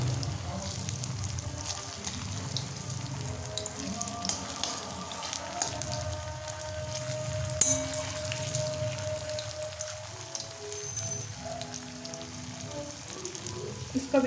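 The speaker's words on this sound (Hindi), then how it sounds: "तो चलिए इसको धीमे आंच में फ्राई करते हैं।" Veg Manchurian balls frying in oil on a low flame, a steady soft sizzle and crackle running continuously with no voices over it.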